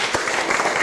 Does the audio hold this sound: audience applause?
yes